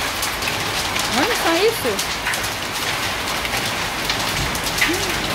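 Hailstones pelt down during a hailstorm in Ribeirão Preto, popping like popcorn in a dense, loud, continuous patter while someone speaks briefly over it.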